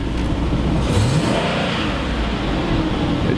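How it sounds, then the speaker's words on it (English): A GMC Yukon engine revs in reverse without the vehicle moving, a steady loud mid-pitched drone with a brief rising whine, continuous and close, no voices. "I just stepped on the gas when it was in reverse"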